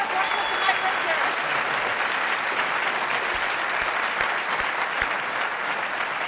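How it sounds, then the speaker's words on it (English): Sustained applause from a large crowd at a hockey Q&A event honoring two former goaltenders, steady dense clapping filling the whole stretch without a break. "Let's give a round of applause."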